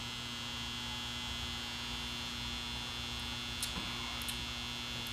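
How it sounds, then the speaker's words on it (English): A steady, even drone of a clothes dryer running, with a constant low hum and airy whir, no voices. "And yes, that's the dryer"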